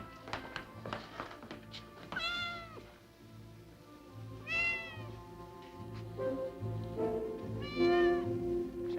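A cat meows repeatedly in clear, drawn-out calls spaced a couple of seconds apart, near and fairly loud, with soft taps and bumps beneath.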